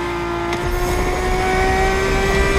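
A car engine in The Crew Motorfest on PS5 Pro drones loudly and steadily as it is heard from inside the cabin, holding a sustained tone that rises slightly in pitch toward the end.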